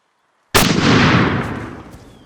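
A hunting rifle shot in a film cracks suddenly after a half second of silence, loud and close, then rolls off in a long fading echo, no talking.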